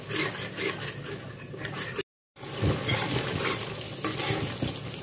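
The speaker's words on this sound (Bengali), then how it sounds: "এবার ভালো করে আবার মশলাটা কষিয়ে নেব।" Spice paste with whisked yogurt stirred and frying in a pan for a jackfruit muitha curry, a steady sizzle with repeated scraping strokes of a spoon, close, interrupted by a brief cut.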